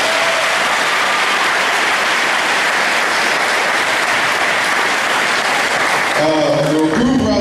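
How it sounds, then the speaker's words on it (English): Sustained, dense applause from a large crowd at a press conference fills the space loudly and steadily, with a voice starting to speak as the clapping ends. "just give them a round of applause"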